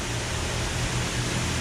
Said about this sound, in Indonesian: Mendengar gemericik air yang mengalir